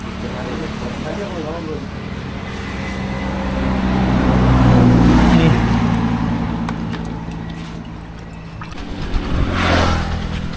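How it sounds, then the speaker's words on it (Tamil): A vehicle engine is started and runs with a steady low rumble that swells in the middle and comes back near the end. It is fairly close, with outdoor background noise and no talk. "எனக்கு அந்த குயிக்காக இருக்கிறது இன்ஜின் ஸ்டார்ட் ஆகிற கொஞ்சம் கஷ்டப்படும்"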